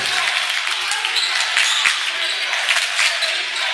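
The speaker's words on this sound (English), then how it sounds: "The crowd is into it here." A crowd cheers and roars in a college men's basketball gym, a steady, loud wash of noise with scattered whoops and claps throughout.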